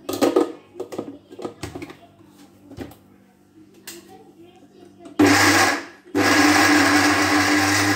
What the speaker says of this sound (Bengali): এখন এটা আমি ব্লেন্ডারে ফিট করে নেব।